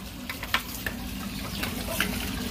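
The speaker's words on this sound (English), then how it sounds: "I have a hose going down the drain here." Water from a hose running down a street drain gully, a steady trickling hiss with occasional splashes and clicks, fairly close and continuous, no voices over it.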